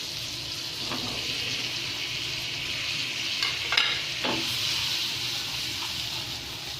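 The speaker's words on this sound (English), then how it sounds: "we take another pan and we melt in the butter and we add in the mushrooms" Mushrooms sauté in melted butter in a pan, making a continuous close hiss with a few stirring scrapes and spatters midway.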